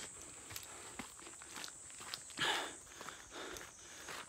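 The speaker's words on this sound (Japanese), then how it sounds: "これ音も僕の足音聞こえる感じ" Footsteps crunch along a mountain trail on Mount Hiei near Kyoto, quiet and close, a steady walking rhythm with one louder scuffing step midway, in an otherwise still setting.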